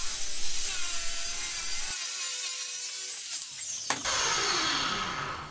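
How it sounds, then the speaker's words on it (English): A hand saw cuts through timber from a reclaimed door damaged by borer and dry rot, following a guide in steady close rasping strokes that stop partway before sawing resumes. "This will guide a saw along that cut, nice and straight and clean."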